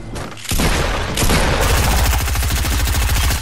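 Rapid automatic gunfire sprays stairs in a video game, loud close bursts that run into a dense, steady stream of rattling shots.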